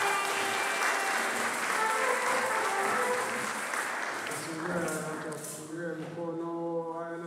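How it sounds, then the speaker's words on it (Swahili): An audience at a youth conference applauds the Nachingwea parish group with dense, sustained clapping that thins out toward the end, as a voice begins speaking over it. "Na tuwapigie makofi Nachingwea."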